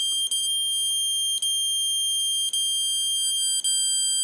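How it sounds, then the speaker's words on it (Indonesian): A temperature alarm buzzer on a router control and online security system, deliberately taped over to muffle it, gives four short high-pitched beeps at a steady interval of just over a second, continuous and alone. "jika buzzer ini dilepas, suaranya akan sangat tinggi sekali"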